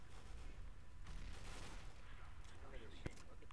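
Continuous Counter-Strike: Global Offensive gunfire fills the scene as a steady, dense wash of shots. A sharp, distinct shot cracks near the end. Loudness stays fairly even throughout.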